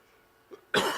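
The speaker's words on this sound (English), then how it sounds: "Let me get my cough done away with." A single sharp cough from a man, heard close and loud, preceded by a faint throat sound.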